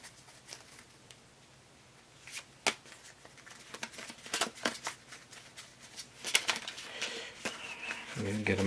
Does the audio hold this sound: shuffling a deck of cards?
yes